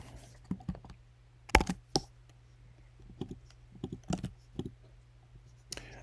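Fingers type a custom password on a computer keyboard in a quiet room, sending out a few scattered, crisp key clicks in small irregular bursts with short pauses between them.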